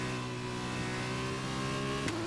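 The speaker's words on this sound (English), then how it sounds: "I definitely don't like the way the F2 car sounds when they shift." F2 race car engine in the F1 2021 video game, a steady high-pitched drone with a sharp tick as a gear shift drops the pitch near the end.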